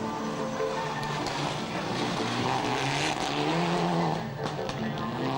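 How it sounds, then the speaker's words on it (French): Mitsubishi Lancer Evo 9 rally cars race hard, engines roaring continuously up close with tyre squeal and skidding throughout, a dense, loud wash of motor noise with no talk. "Les voitures, ce sont des Mitsubishi Lancer Evo 9"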